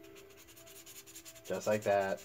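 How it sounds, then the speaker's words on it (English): Sandpaper rubbing across a Bondo-coated prop surface in short scratchy strokes, close up, before a voice briefly speaks. "very finely start sanding it down"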